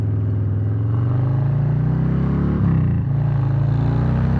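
A 2020 Harley-Davidson Low Rider S motorcycle accelerates hard, its loud, low engine drone climbing steadily in pitch, dipping briefly as it shifts, then pulling on again.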